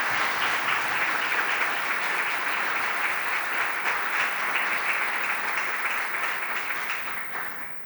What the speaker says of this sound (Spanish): solicitándoles recibirles con un fuerte aplauso